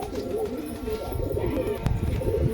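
Pakistani high flyer pigeons, including a tail-clipped female, coo in a steady low murmur, close and continuous, with a soft flutter or tap near the end.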